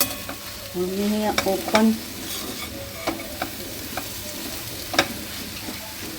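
Fenugreek leaves cook uncovered in an open pan for a Marathi dry fenugreek dish, with a low sizzle beneath scattered scrapes and taps of a stirring spoon; someone speaks briefly early on.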